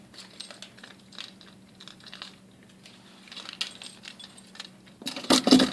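An everyday-carry keychain loaded with keys gives a short, crisp metallic jangle near the end, following a stretch of quiet rustling.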